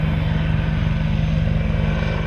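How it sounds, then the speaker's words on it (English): An Apache attack helicopter lifts off from Kirkuk Air Base in Iraq, its engine and rotor making a loud, steady, throbbing roar close by, with a dense low pulsing under a broad rushing noise and no speech. "An Apache attack helicopter takes off from Kirkuk Air Base"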